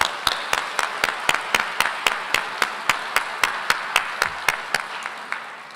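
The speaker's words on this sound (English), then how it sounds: "So another round of applause for this amazing group." Rhythmic clapping at a graduation convocation ceremony, with evenly spaced sharp claps repeating steadily for several seconds, close and fairly loud, easing toward the end.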